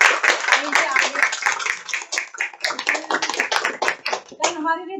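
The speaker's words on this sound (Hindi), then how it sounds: "बहुत जोरदार तालियां खुद के लिए" A crowd at a gathering in a herbal store claps together in a long, dense burst of applause, close and loud, with voices mixed in, before it fades out near the end.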